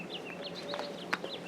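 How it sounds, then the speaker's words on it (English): Small birds chirp and tweet outdoors by a greenhouse, with thin high calls repeating in quick phrases and one sharper call standing out, moderately near over a quiet background. "I love the birds."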